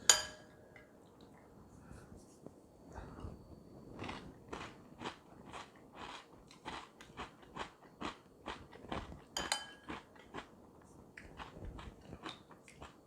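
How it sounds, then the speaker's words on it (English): Keto breakfast cereal crunches in a run of crisp bites and chews, starting sparse and speeding into a steady rapid rhythm, close to the mic and loud with no talk. "These still have a nice crunch to them."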